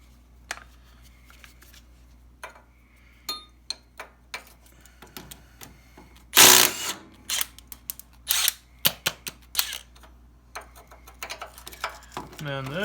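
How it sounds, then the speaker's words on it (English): Bolts are worked loose from a Woods 6180 / Grasshopper 618 mower axle, with scattered sharp metallic clicks and taps, a louder clattering burst midway and quieter tool sounds after. "Next, we're going to drop these 2 bolts."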